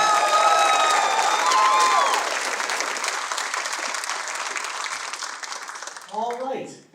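An audience applauds the Youth Leadership Award winners with a dense burst of loud clapping and some cheering that gradually tapers off, before a voice speaks near the end.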